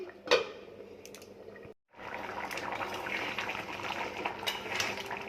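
A metal lid clatters onto a pan of matar paneer cooking on a gas stove, one sharp clink followed by a brief hush, then a steady simmering hiss with faint kitchen clatter.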